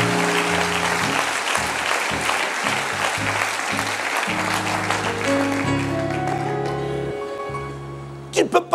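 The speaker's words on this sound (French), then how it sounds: "Acclame, acclame, acclame," A church congregation applauds in a continuous wash of clapping beneath a preacher's loud amplified voice, with a few sharp claps standing out at the end.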